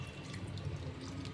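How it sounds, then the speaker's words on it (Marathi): Water tips into a pan of paneer tikka masala, giving a brief, close liquid splash and trickle with no talk. "आता हे याच्यामध्ये आपल्याला थोडं पाणी सुद्धा ऍड करावं लागेल."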